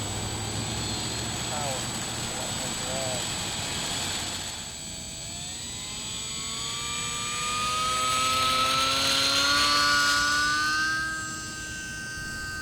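An E-Flite UMX Pitts S-1S radio-controlled model plane flies overhead, its small electric motor giving a whining tone that rises and falls in pitch as the plane passes near and then away, with steady outdoor background noise.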